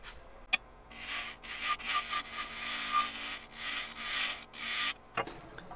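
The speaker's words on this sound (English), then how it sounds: "I want that scraped all the way off." A tool scrapes bocote wood spinning on a lathe, a continuous rasping hiss that swells and fades in several passes, close and fairly loud, with no talk.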